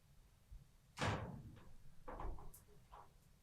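The door of a complete air-cooled cooler and freezer refrigeration system, an 8 hp HGZ 800S unit, shuts with a faint thud followed by a few softer knocks and clicks.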